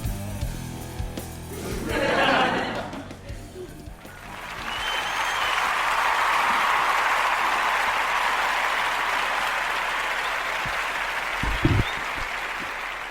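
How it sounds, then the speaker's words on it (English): Canned applause from a fake studio audience swells into a steady, dense wash of clapping that holds for several seconds, with a brief voice and some noise just before it. "Clapping for exactly 12 seconds."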